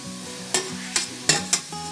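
Onion with ginger, garlic and green chilli paste fries in a pan while being stirred, a steady sizzle broken by four sharp scraping strokes of the spoon, close and fairly loud, no voices.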